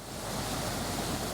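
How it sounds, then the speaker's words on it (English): A river flows steadily outdoors near a scenic viewpoint, heard as a continuous broad rushing wash of water with no breaks, fairly close and filling the whole background. "I know you can probably hear the river in the background"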